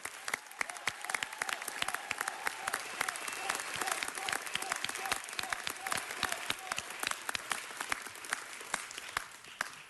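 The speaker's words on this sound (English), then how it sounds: "Let's give her a round of applause." Sustained applause from a council meeting audience welcoming United States Senator Barbara Boxer, dense steady clapping filling the room for the full stretch with a few sharper claps standing out.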